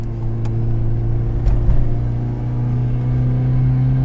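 Proton Saga car engine accelerating through the gears, a steady mid-pitched drone with a low hum that swells briefly around the middle, heard close from inside the cabin.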